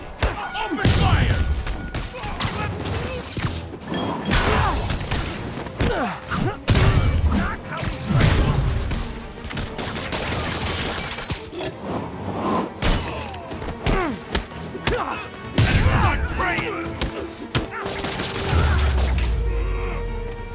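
Dense gunfire and crashing impacts in Marvel's Spider-Man during a street crime break-in in Manhattanville, with rapid bursts, thuds and smashes layered loudly throughout while characters shout over the chaos.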